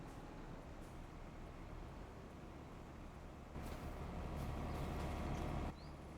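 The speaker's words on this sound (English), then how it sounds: "There goes the train around again" A train rumbles past in Farming Simulator 25, a steady low drone that swells louder near the end before dropping off, with no talk.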